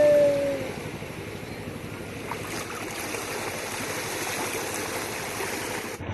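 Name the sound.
sea waves at the shore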